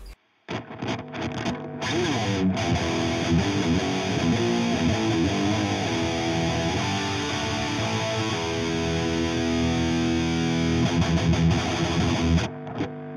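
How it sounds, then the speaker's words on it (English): Distorted electric metal guitar played through a Marshall 1960 cabinet plugin and captured with a simulated Shure 57 microphone, a dense sustained chugging tone that rings loud and unbroken for over ten seconds before cutting off. "Now it actually sounds like a guitar."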